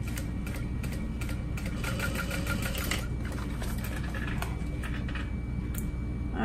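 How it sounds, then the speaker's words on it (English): Sewing machine running steadily while topstitching a crossbody bag with contrast thread, a close, continuous mechanical whir with rapid needle clatter, uninterrupted by speech. "I am using a contrast thread for top stitching, so I'm trying to be super careful that I don't mess it up"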